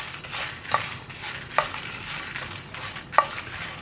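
Dry red chillies are stirred and roasted in a pan for kadai masala. The stirring scrapes softly in a few distinct strokes about a second apart over a quiet, low sizzle, with no voices.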